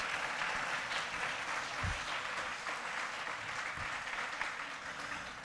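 Audience applause after a talk on race, a steady dense wash of clapping sustained throughout, fairly distant and even in level.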